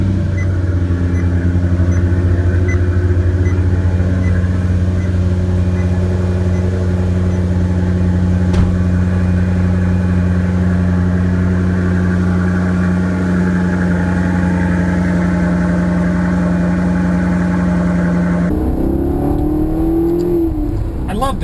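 A Maserati GranTurismo engine starts and idles with a steady, deep humming rumble for a long stretch, then the tone shifts near the end.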